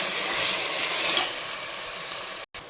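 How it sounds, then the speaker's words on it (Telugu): Onion, green chilli and ginger garlic paste sizzle steadily in a pan while being stirred, with a few scraping touches. The sound cuts out briefly near the end. "ఇది వేసి ఒకసారి కలుపుకోండి."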